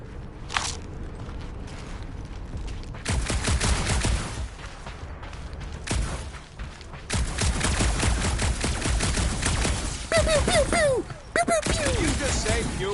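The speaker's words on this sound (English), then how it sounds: "Just making sure my guns work." The character Rocket fires his guns in the Guardians of the Galaxy video game, letting off several loud, sharp bursts of gunfire separated by brief pauses, with voices heard between the shots.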